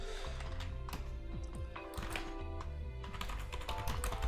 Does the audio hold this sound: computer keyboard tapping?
yes